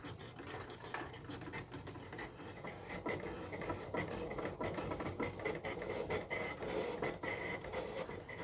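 An electronic craft cutting machine cuts leaf designs from card, making a faint, steady mechanical whir dotted with rapid ticking and clicking from its moving carriage.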